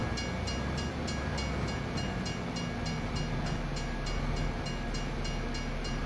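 A train passing in Farming Simulator 25, a dense continuous rumble and rolling rail noise with a steady high whine, loud and unbroken throughout.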